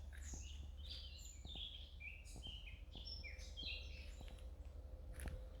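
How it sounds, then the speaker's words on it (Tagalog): Small birds chirp and tweet along a walking path in fresh outdoor air, scattered short calls at moderate distance over a low steady hum, with occasional faint clicks and no talking. "huni ng mga ibon."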